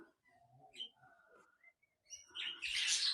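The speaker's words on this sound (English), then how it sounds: "King quails and budgerigars." King quails and budgerigars in an aviary at a marsupial park, soft scattered chirps and whistles, then a brighter burst of chattering calls near the end, faint and close.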